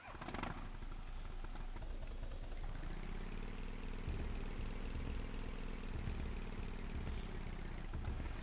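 A motorbike engine in the Tomb Raider III Remastered River Ganges level on PS5 starts up and runs at a steady, loud drone for several seconds, with a low rumbling tone and small surges.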